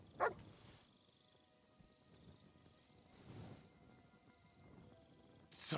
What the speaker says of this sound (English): Sit and bark.